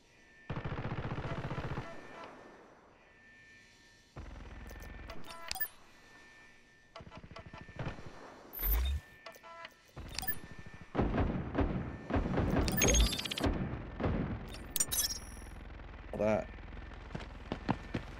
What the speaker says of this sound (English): Is that the boss shooting? There's somebody else shooting as well.